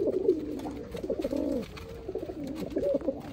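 A pair of Sialkoti pigeons coo close by in soft, throaty, repeated phrases that rise and fall, with light rustling in between and no talk.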